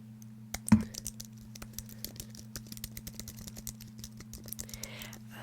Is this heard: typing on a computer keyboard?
yes